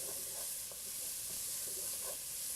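Lentil soup stirred in a pot, a soft scraping swirl with faint liquid sloshes under a steady hiss, quiet and close, no talking.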